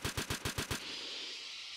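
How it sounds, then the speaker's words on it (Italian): A minigun in a helicopter battle video game fires a rapid burst of about six heavy, evenly spaced shots, then the noise fades into a lingering hiss. "Ti sparo con la minigun!"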